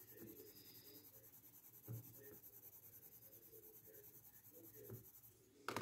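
Colored pencils rub and scratch softly on paper as two colors are blended together, a faint, steady scribbling texture with a few slightly louder strokes, close and quiet.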